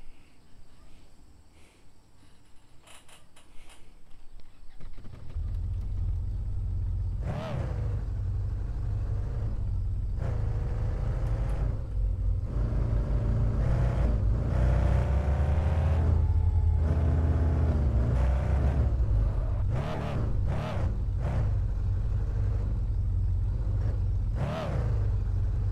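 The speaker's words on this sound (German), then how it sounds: "ich mach den Motor mal eben aus, sonst ist das so laut hier" A car engine running in the video game Car For Sale, a loud, constant low rumble and drone that kicks in after a few quiet seconds, with brief sharper bursts layered over it and no speech.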